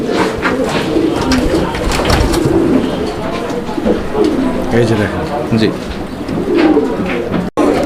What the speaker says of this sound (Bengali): স্ক্রিনের বাম সাইডে যেটা ডাকাডাকি করতেছে এটা হচ্ছে নর কবুতরটা